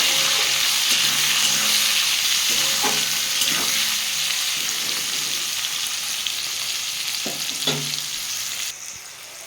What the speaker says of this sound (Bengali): পেঁয়াজ দিয়ে দেবো আর টমেটো দিয়ে দেবো দিয়ে বন্ধুরা এটা ভালো করে একটু ভেজে নেবো লাল লাল করে